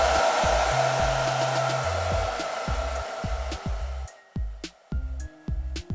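A hair dryer set to its cold jet runs steadily as a continuous airy whoosh, then cuts in and out in short bursts toward the end, used during eyebrow makeup.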